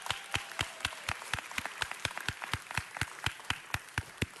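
A council chamber audience claps for a female high school wrestling champion, with sparse, distinct handclaps sounding at a fairly even rhythm, a few hands close by.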